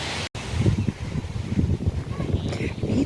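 Wind buffets the microphone in low, uneven gusts while walking to a rose garden, with a brief dropout near the start and faint rustling throughout.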